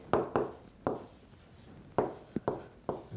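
A pen or pencil writes numbers by hand on paper, producing quick scratchy strokes in short bursts separated by pauses, close and fairly quiet.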